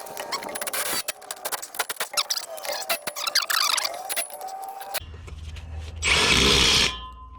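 A power tool drives the strap bolts on the driveshaft of a 2005 GMC Yukon XL. Metallic clinks and rattling lead into one loud, close, buzzing burst of about a second near the end.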